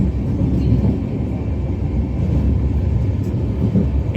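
An Indian Railways Vistadome coach rolls through the Dooars, heard from inside as a steady low rumble and rattle of the moving train, moderately loud and unbroken, with no one speaking.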